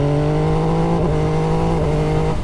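A 2021 MV Agusta Dragster motorcycle's three-cylinder engine pulls in third gear at about 4,000 rpm, a loud, steady, buzzing drone that holds nearly level throughout with no voices.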